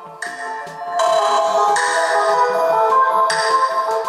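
Music plays through the loudspeaker of a Xiaomi Redmi 5 Plus phone: a rhythmic electronic track with a repeating bass pattern and brighter layered synth sections, fairly loud and close, with no talking.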